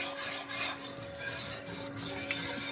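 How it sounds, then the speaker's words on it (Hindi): A whisk scrapes steadily around a pan as one cup of milk is added bit by bit to a creamy pasta sauce, a continuous close metallic stirring and rubbing with no voices. "इसमें आप थोड़ा थोड़ा करके ना हम दूध ऐड करेंगे और ये विस्क को ना हम सलसल चलाते रहना है"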